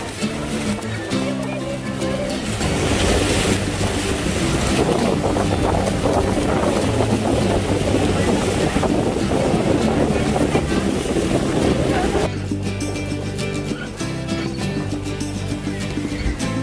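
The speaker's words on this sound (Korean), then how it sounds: "폭포에 가까이 배가 다가갈수록 물살이 거세졌고 또 비가 오는 것처럼 물바람도 불었습니다." Loud, continuous roar of churning water near Niagara Falls and wind-blown spray buffeting the microphone, with a tour boat engine droning underneath throughout, no talking.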